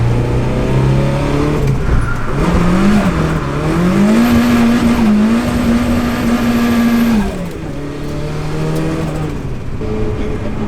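A Nissan S13 accelerates hard in second gear through a right-hand on-ramp at night, its loud, close engine droning steadily and climbing in pitch, wavering through the turn, then dropping as the revs ease near the end.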